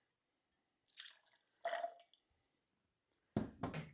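Absolut vodka, 1.5 ounces, poured into a caramel apple mule cocktail: a few short wet glugs and drips, close and fairly soft, ending in a louder splashing burst near the end, with no talking.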